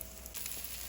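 Egg mixture fries in a pan for a brief moment, a soft steady sizzle without any talking.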